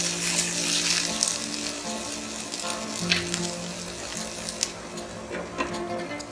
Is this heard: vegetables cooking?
yes